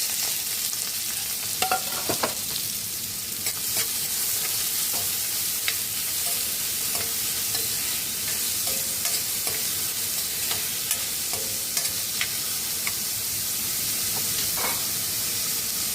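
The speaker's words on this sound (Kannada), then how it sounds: "ನೋಡಿ, ಈಗ ಎಣ್ಣೆ ಕಾದು ಸಾಸಿವೆ ಚಿಟುಗುಡ್ತಾ ಇದೆ." Mustard seeds crackle and pop in hot oil while onions fry in a pan for ladies finger palya, a steady loud sizzle with scattered sharp pops and occasional stirring scrapes, close up and without speech.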